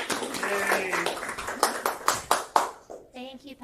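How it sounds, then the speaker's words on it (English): A round of applause from an audience gathered at a church for a plant-based sourdough bread bowl and soup making class, heard as a short run of claps and cheers mixed with voices and talk. "We should give her a round of applause."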